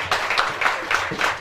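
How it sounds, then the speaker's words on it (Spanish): A crowd claps for the artists at a singing contest, a brief burst of applause that is close and fairly loud. "Y el aplauso nuevamente es para ustedes"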